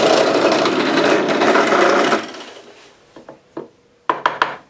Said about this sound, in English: I'm now simply going to drill a pilot hole in the wood blank.